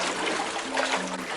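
Water trickles and babbles softly in a shady slot canyon, a brief close burble over faint background hum.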